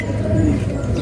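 Pigeons cooing in a rooftop loft, soft low repeated coos close by over a steady outdoor background murmur.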